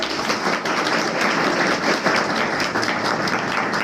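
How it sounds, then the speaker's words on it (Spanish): A room full of listeners gives a panel a round of applause after a parasitology roundtable, thick continuous clapping that holds steady and loud for a few seconds. "un aplauso para nuestro panel"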